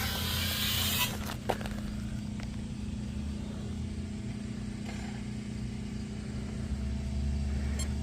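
A Tamiya TT02 radio-controlled car drives on, a thin, steady electric motor whine with faint tire noise running continuously at low level, alone without talk.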